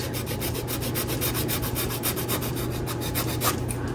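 Small cured resin pieces sanded by hand with no power sander; a steady, close scratchy rubbing runs continuously in quick back-and-forth strokes, with no talking.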